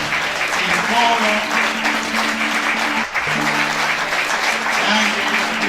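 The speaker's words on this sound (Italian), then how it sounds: "Poi grosso applauso per tutti gli altri protagonisti, il coro" A theatre audience applauds the performers and chorus after a Sicilian-language staging of Greek tragedy, giving sustained dense clapping throughout with a brief dip midway and faint talk or tones running beneath.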